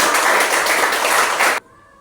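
Children in a classroom lesson clap together in a loud, dense burst for about a second and a half, then it cuts off abruptly into near silence.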